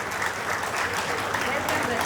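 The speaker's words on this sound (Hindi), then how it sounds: "सब लोग इस राजेंद्र यादव नाम की संस्था की महान पुत्री का जोरदार तालियों से स्वागत करें।" An audience at a book publishing event applauds to welcome a guest, a dense, continuous roar of clapping that stays loud and even throughout the short stretch.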